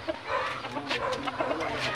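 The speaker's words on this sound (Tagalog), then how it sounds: "Daming manok." Chickens cluck in a rural provincial yard, several short clucks scattered over a steady outdoor background, with a voice faintly talking underneath.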